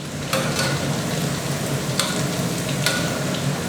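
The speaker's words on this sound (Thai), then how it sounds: "ทอดแบบนี้แหละทอดไฟอ่อนพอมันสุกปุ๊บเราก็เร่งไฟแรงให้สี" Pork pieces with garlic frying over high heat in a Thai home kitchen, a steady dense sizzle with a few sharper crackling bursts, close and fairly loud with no talking.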